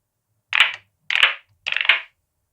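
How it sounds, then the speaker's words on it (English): Three separate synthesized claps made on a Modor from white noise shaped by low-pass and high-pass filters, each a short crisp burst spaced about half a second apart against silence. "there is a low pass and a high pass filter working on white noise to get this clap sound"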